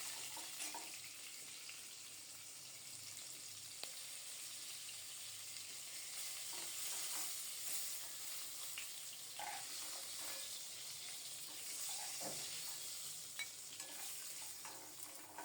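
Fish and potato pieces fry in hot oil in a home kitchen, giving a faint, steady sizzle with occasional soft clinks and stirring sounds and no speech.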